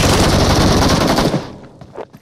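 Rapid automatic gunfire in the PUBG Mobile shooter game, a loud sustained burst of close shots rattling for over a second before cutting off into a faint tail.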